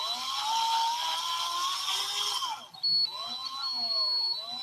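A power drill whirs steadily as it bores a hole near the edge of a workpiece, its strained whine running for about two and a half seconds before easing into a lighter, wavering hum.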